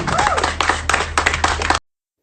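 A run of sharp hand claps, several distinct slaps in an uneven rhythm, close and fairly loud, cutting off abruptly near the end.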